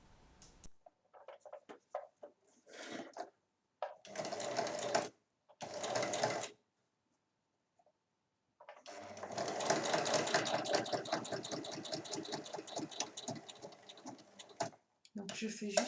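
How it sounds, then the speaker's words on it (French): A sewing machine topstitches a checkbook cover with a closure tab, running in short bursts before settling into a long, steady whirring stitch; brief pauses separate the runs. "Donc je fais juste une surpiqûre et je repasse deux fois."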